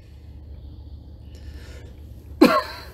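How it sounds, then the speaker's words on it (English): A single short cough from a person with a cold, near and abrupt after quiet, in a recording room with faint background hum. "battling a cold during recording this particular episode, so if you hear me coughing, I apologize."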